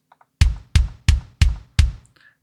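Five layered kick drum samples from Superior Drummer thump in a steady, evenly spaced row, each a loud, punchy low hit with a bright click and quick decay, alone with no other sound.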